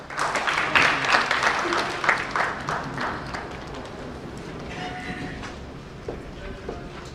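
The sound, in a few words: audience applause at a book launch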